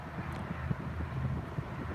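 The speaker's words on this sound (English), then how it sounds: "Wind's probably blowing about 6 to 7 miles an hour, and it pulls on that line pretty good" Wind blows across a lake during morning fishing at about 6 to 7 miles an hour, making a low, steady rumble and buffeting against the microphone with small gusty bumps.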